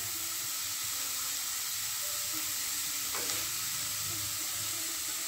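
Carrot and shredded cabbage frying in a pan for chicken soup make a constant, close hissing sizzle, with one brief stir or scrape midway.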